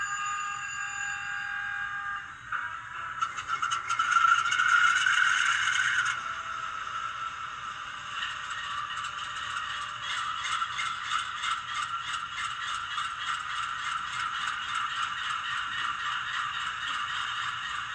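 A ScaleTrains HO-scale GE C44-9W model locomotive's sound system starting up: a brief mechanical rattle and clunk, then a rising whine settling into a steady, rhythmically pulsing diesel idle, close and alone.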